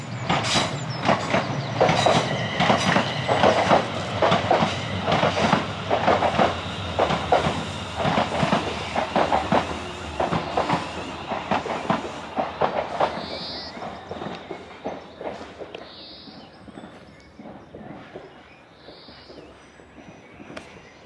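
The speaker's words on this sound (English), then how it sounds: "We've got a train going by here." A train rumbles past with rhythmic clatter, loud at first and gradually fading as it moves away, no one speaking.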